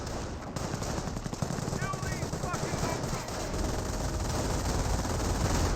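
MG42 machine gun fire rattles continuously in Company of Heroes, with dense sustained bursts under layered battlefield noise, other distant gunfire and mortar activity running throughout.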